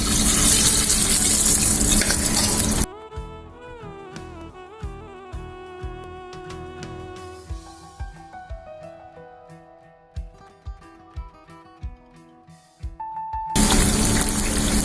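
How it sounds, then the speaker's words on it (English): Battered cauliflower (gobi) sizzles in hot oil with a loud, dense crackle at the start and end, while music with plucked notes plays alone in between. "with the batter, and now we'll slowly start frying."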